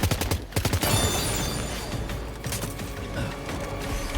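A burst of rapid gunfire from attempted headshots in Death Stranding 2, with loud sharp shots packed close together at the start and then a steady mechanical rumble after them.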